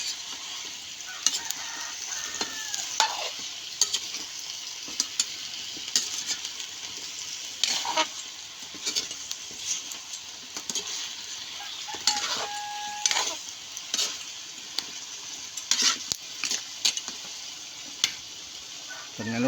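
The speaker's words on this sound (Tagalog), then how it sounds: "Haluin muna." Native chicken tinola is stirred in a pot, a gentle bubbling simmer under repeated scraping and clinking of a utensil against the pot, heard close with no talk.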